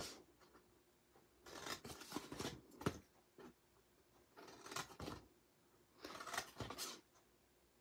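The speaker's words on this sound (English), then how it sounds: "you wanna cut off the rectangles on either side of that 1/2 inch side tab" Scissors snipping paper while cutting out a custom-size box, three separate bursts of quick close crisp cuts with quiet gaps between them.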